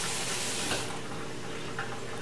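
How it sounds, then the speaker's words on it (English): Vegetables rinsed under a running kitchen tap, a steady broadband rush of flowing water splashing into the sink, close and continuous with no voices. "Usually I always wash my vegetables, just run it under water and kind of rub it"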